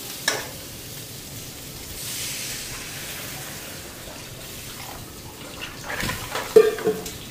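Water is poured onto spices frying in a pan, making a soft hissing sizzle that swells briefly, followed by a quieter simmer and a couple of louder clinks near the end.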